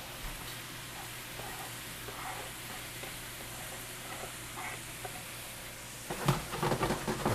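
Diced pineapple sizzling in a hot pan, a steady close frying hiss with faint stirring, swelling louder and crackling near the end.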